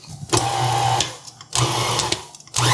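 A KitchenAid stand mixer on low speed folds grapes into chicken salad, its motor whirring steadily in close, loud stretches with brief dips between them.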